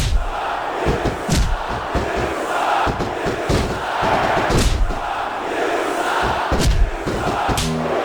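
Arena crowd in WWE SmackDown vs Raw 2006 roars and cheers continuously, with loud shouts and thumping impacts from the wrestling match breaking through the steady crowd noise.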